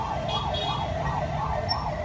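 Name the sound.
ambulance siren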